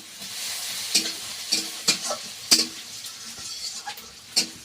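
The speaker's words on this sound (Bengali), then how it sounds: "পরিমাণ মতো 5 ফোড়ন দিয়ে দিচ্ছি।" Panch phoron spices frying in hot oil, a hissing sizzle broken by a series of sharp crackling spatters and spoon clinks at irregular intervals.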